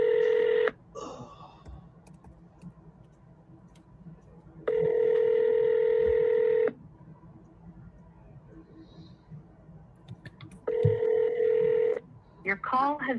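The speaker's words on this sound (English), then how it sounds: "I'm calling right now." Outgoing telephone call ringing: three long, loud tone bursts separated by quiet gaps, with a voice talking softly between them and a brief flurry of short tones at the end.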